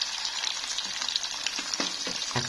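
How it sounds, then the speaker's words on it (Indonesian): Tofu frying in a pan at home, a steady close sizzle with small crackles and pops throughout. "aku goreng dulu ya di tahunya"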